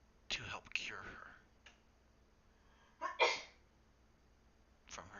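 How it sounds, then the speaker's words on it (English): A few short, sharp breathy bursts like sneezes, spaced apart over quiet background, with soft whispery sounds between them. "She sneezed."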